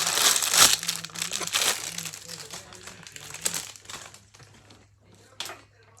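Plastic packaging from a fidget toy is torn and crinkled open close by, with crisp crackling bursts and rustles that thin out into scattered crinkles, while a voice speaks briefly underneath.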